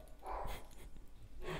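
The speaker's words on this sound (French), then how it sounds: "je suis désolé pour mon chien, Il est en mode excité de ouf" An excited dog barks in sharp, close bursts in a room, loud yaps repeating in an uneven rhythm with a short pause in between and no talking.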